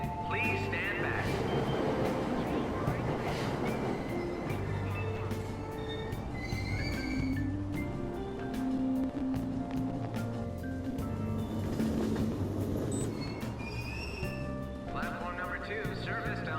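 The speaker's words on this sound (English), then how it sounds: "Train doors are now closing." A subway train pulls out of a Tokyo station in Persona 5 Royal, a dense, steady rumble of wheels and carriages with metallic squeals and tonal hums running throughout.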